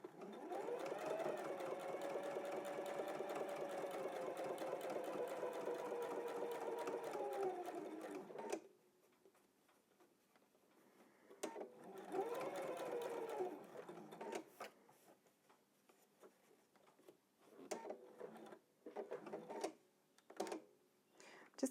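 A sewing machine stitches quilt fabric at a steady whirring pace for several seconds, pauses, then runs again in shorter bursts with clicks and handling noises between, close and fairly quiet.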